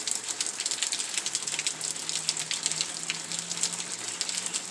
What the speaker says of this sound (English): Traveling through the rain.